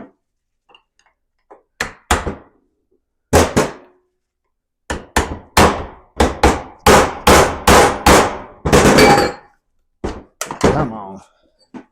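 Close hammer blows on a 233c transfer case seal of a 2000 Chevy Blazer 4.3L: about a dozen sharp metallic knocks, sparse at first, then coming in quick irregular clusters, with quiet gaps between the groups.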